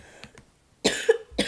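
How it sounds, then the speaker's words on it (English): A man coughs twice, sharp, harsh bursts close to the microphone, preceded by a couple of faint throat sounds. "I am coughing a lot."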